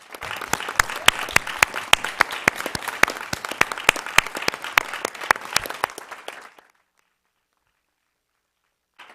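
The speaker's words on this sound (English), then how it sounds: "Please join me in a round of applause for our staff" A small meeting audience at a Board of Education session gives a round of applause for school staff, brisk claps for about six seconds before cutting to silence.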